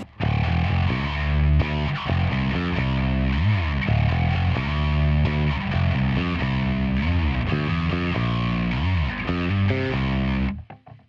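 A heavily fuzzed, distorted bass guitar, a Lakland 4401, plays a busy riff up close, sustained notes and slides, then cuts off abruptly near the end.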